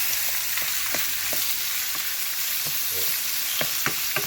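Sliced beef frying in oil sizzles steadily while a utensil stirs it, giving repeated scraping taps against the pan, close and without talk.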